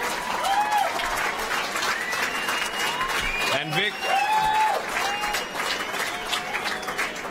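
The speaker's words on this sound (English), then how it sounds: "Ladies and gentlemen, once again, a round of applause." An audience at a football medal night applauds loudly and continuously, a full wash of clapping with voices, a few whistles and a brief spoken line cutting through.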